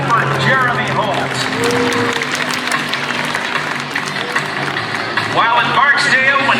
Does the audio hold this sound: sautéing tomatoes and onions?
no